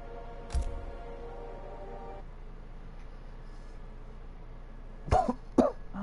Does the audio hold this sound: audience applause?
no